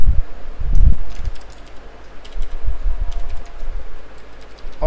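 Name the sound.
typing code on a computer keyboard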